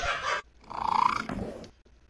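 A cat gives a rough, growling purr-like vocalization, a short burst followed by a longer rising, rasping call, close and loud.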